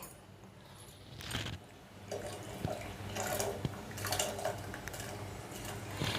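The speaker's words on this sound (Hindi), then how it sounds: "तो अब हम इसमें ये दाल को डाल देंगे।" Arhar dal poured into a pot of hot water for Jagannath temple-style sweet dal, a watery splashing and rattling pour with a few brief bursts, close and moderately loud, no talking.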